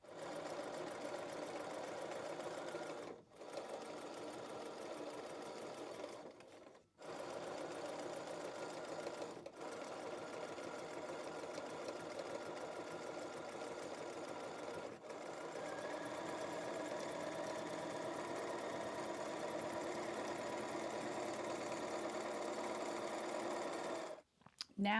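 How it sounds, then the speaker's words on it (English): A home sewing machine stitches a princess seam in a long, steady mechanical whir with a fast needle rhythm, pausing briefly several times before stopping near the end; faint talk occurs in the background. "I'm going to stitch it just like we did from the front with the notches on the top side, stitching from the top to the bottom."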